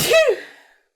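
A single sneeze bursts out sharply up close, rising to a quick peak and then trailing off into a short fading breath.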